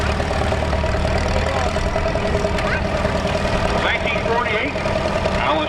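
A 1950 B.F. Avery Model A farm tractor's engine runs steadily at an outdoor steam-up show in Oregon. The rumble is loud and continuous, with a voice talking over it.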